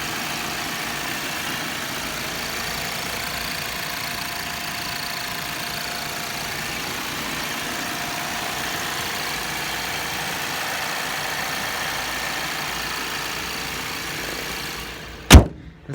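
A 2019 Audi A4 allroad with a 2.0-liter turbo engine idles with a steady, even hum, recorded up close and unchanging, ending in a sharp thump.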